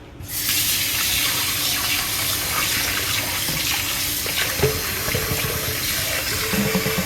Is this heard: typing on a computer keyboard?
no